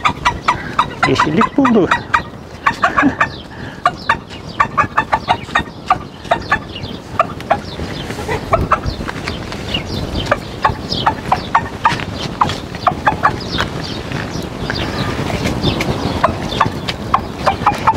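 Chickens in a coop scratch and peck among greenery and grape leaves, with sharp rapid clicks and soft clucks up close, while someone speaks briefly.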